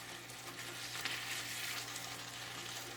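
Shrimp frying in a pan for shrimp fra diavolo, a constant close hiss and sizzle that holds steady throughout with no talk.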